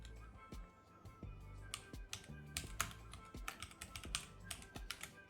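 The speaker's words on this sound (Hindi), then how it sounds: "तो यहाँ पे मैं टाइप करूँगा माउस पैड" Quiet typing on a computer keyboard, an irregular run of light clicking keystrokes that speeds up in the middle, heard close and alone without speech.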